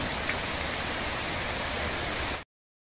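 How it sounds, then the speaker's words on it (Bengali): Steady rain falls in a continuous broadband hiss for about two and a half seconds, then cuts off abruptly, with no talking over it. "বৃষ্টির আওয়াজ শুনছেন নিশ্চয়ই।"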